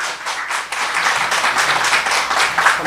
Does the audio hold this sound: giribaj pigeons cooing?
no